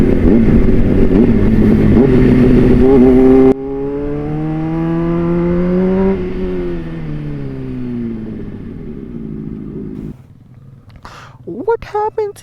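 A Honda CBR600RR sport motorcycle with a recurring fault idles with a steady hum, then its revs climb and fall smoothly in a rev-matching blip. The engine is loud and close, with sharp quick revs and voices near the end.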